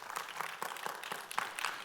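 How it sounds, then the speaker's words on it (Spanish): Church congregation applauding during a Spanish-language service, fairly faint, steady clapping from many people with a few sharper claps standing out. "Dele el aplauso al Señor."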